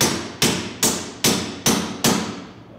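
A hammer knocks the pin out of a driveshaft U-joint on a University Electric E-350 van, landing six loud, evenly spaced metallic blows close by, each ringing out briefly before the next, with no talking.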